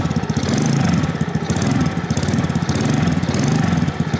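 A Venom 50cc FatBoy mini chopper engine runs close by with light throttle, a loud, buzzy, rapidly pulsing putter that rises and eases in gentle waves.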